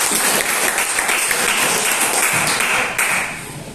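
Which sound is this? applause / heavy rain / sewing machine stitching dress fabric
applause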